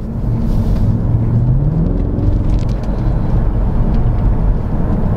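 A Mercedes-Benz C63 AMG cruising past on the road, its engine a steady low hum with a rising tone that swells and eases, heard close and fairly loud against constant road noise.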